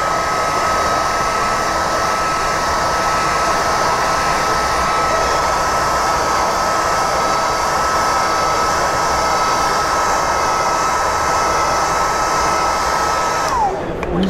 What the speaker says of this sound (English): Now I'm going to take a blow dryer like we discussed